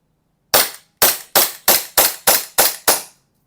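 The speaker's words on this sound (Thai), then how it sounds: "เราจะได้ยินจากเสียงที่มันเริ่มซอฟลง ก็คือแก๊สในแม็กเริ่มอ่อนแล้วนะครับ" An Umarex Glock gas blowback airsoft pistol with its gas running low fires seven sharp, loud snapping shots in quick, fairly even succession, alone and close.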